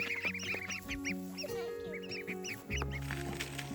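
Several domestic ducks on a small farm pond quack in quick, overlapping bursts, near and fairly loud, with honking calls mixed in and faint background noise.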